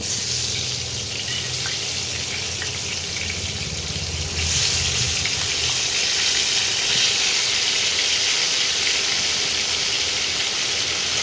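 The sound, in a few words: potatoes frying in oil for chicken curry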